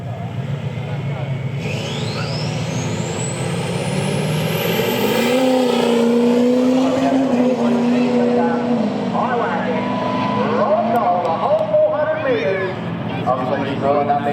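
A turbocharged drag race car at a strip racing event holds a loud, steady engine drone with a rising turbo whistle, then revs and surges as it launches, under continuous commentary.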